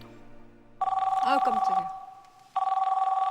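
A telephone rings loudly in steady repeated bursts, starting after a quiet moment and returning near the end, with a startled voice speaking over the first ring.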